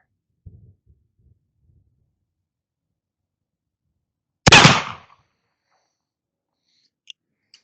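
A single loud, sharp shot from an 1873 Cattleman single-action revolver fired at a target, standing alone with a short decay, preceded and followed by a few faint clicks and thumps.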